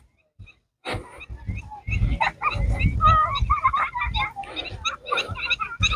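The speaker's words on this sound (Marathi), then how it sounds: "पक्ष्यांचे छान आवाज यायला लागलेत आतापासूनच" A crowd of birds honking and calling nearby at Ujani dam, their overlapping cries coming in a busy, continuous stream.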